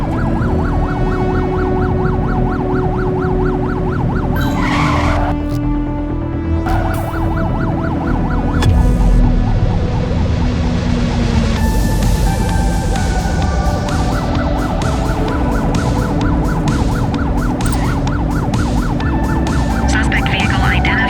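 Police car sirens wail continuously through a vehicle pursuit in the video game The Precinct, loud and close over engine noise, with the pitch sweeping up and down across the whole stretch.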